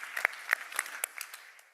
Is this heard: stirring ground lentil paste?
no